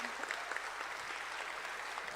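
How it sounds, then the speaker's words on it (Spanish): Applause from an audience at an art and jewellery panel discussion, a short, faint, even wash of clapping heard from a distance with no voices over it. "Vamos, un fuerte aplauso"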